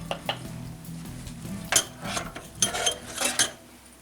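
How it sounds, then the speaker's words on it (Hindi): A spoon clinks and scrapes against a pan while custard is stirred after the flame is turned off, giving scattered metallic taps and short scrapes, close and moderately quiet, with no voices. "जी, तो अब मैं इसको मिक्स कर रही हूँ"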